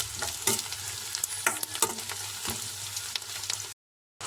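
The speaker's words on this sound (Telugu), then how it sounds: "ఆయిల్ వేసి ఉల్లిపాయలు, పచ్చిమిర్చి, కరివేపాకు వేసి అయితే వేయిస్తున్నాను" Onions, green chillies and curry leaves frying in hot oil, a close crackling sizzle broken by frequent spatula scrapes and stirs, ending in a brief silence.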